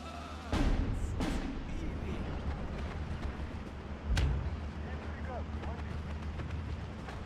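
Mortar rounds land in the Steel Division 2 war game, two heavy booming blasts about three seconds apart over a steady low battlefield rumble, with someone talking over the noise.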